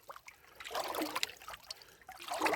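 Water trickling and splashing through a Gold Hog mini sluice outdoors, faint and uneven with small surges of flow and no voices.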